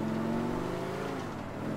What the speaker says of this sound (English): Alright. Car's still running.